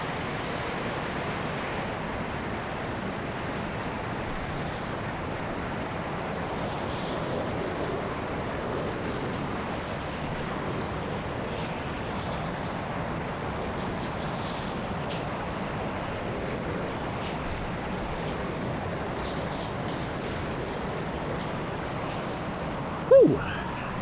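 Broad, steady rush of moving stream water while wading across near a waterfall swimming hole, continuous and close with wind noise on the microphone and a short knock near the end.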